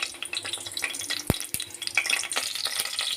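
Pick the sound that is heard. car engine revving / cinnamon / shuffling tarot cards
cinnamon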